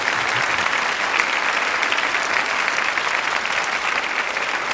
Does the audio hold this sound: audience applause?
yes